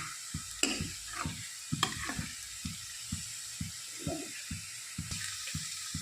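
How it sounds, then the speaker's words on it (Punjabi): Dal tempering sizzles in a pan, with a soft continuous fry hiss under a run of regular knocking stirring strokes and a few sharper clinks, close and moderately loud. "ਮੈਂ ਤੜਕਾ ਲਾ ਦਿੰਦੀ ਹਾਂ"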